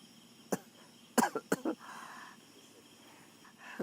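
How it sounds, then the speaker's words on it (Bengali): A person with a severe cough lets out a few harsh, close coughs in quick succession, then one more after a pause, in a quiet room with faint crickets behind. "আমার হয়েছে আবার তীব্র কাশি"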